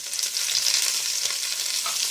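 Beef trotters lightly browning in a pot without spices, giving a steady, bright sizzle and crackle of frying throughout, close and continuous with no voices.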